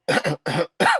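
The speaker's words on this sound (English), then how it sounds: "it's something I'm coughing at every show" Three dry coughs in quick succession, close and fairly loud, each burst short and separated by brief silences.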